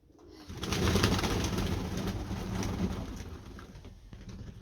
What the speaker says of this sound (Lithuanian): paukščiai va maudytis nori per šaltą bjaurų orą